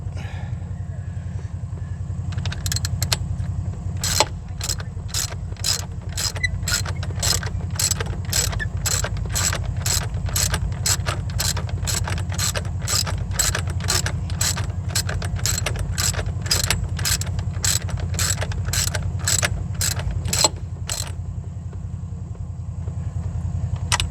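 A ratchet clicks in a long, steady run of sharp, evenly spaced ticks while spark plugs are tightened on a truck with a low-idle stalling problem. A constant low hum sits underneath, and no one speaks.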